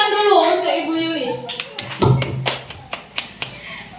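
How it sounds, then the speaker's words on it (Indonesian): Scattered hand claps from a small group at a positive-culture school training session, about ten sharp, uneven claps following a voice speaking. "Tepuk tangan dulu untuk Ibu Yuli."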